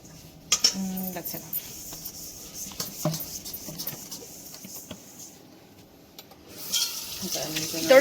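Chopped onion fries in oil in a home kitchen with a quiet, steady sizzle, broken by a few stirring clinks and scrapes and a louder burst of frying toward the end.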